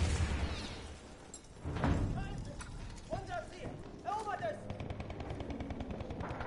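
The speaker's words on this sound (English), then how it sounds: "I can hear gunfire." Gunfire crackles in a Battlefield 1 match, with several sharp shots and short bursts spread through the stretch. A player talks over much of it, and distant battle noise sits underneath.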